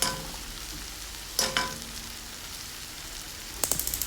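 Prawns fry over a medium flame for honey glazed garlic prawns, a soft continuous sizzle broken by a few sharp utensil clinks midway and near the end, with no talking.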